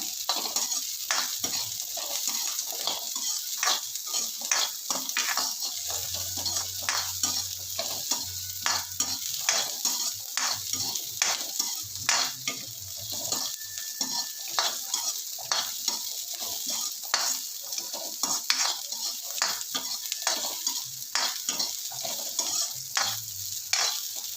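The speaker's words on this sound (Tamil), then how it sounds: "ஒரு அஞ்சு நிமிஷம் நல்லா வதங்கட்டும்" Onions for a cauliflower gravy masala sauté in a pan with a constant sizzle, punctuated by frequent rhythmic scrapes and taps of a spatula stirring, close and steady with no talking.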